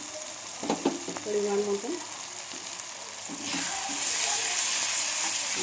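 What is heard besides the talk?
frying garlic, ginger and onion paste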